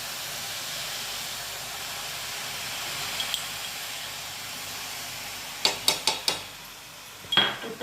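A cup of milk poured into carrots roasted in ghee gives a steady soft hiss of steam, followed near the end by a quick run of sharp utensil clinks and a final clatter. No one speaks.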